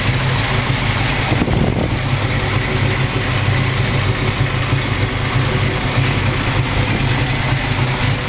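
A 1973 Plymouth Cuda with a 340 Six Barrel V8 idles with a steady, loud, close rumble that holds evenly throughout, with no talking over it.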